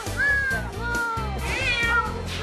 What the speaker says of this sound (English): He's a very vocal cat.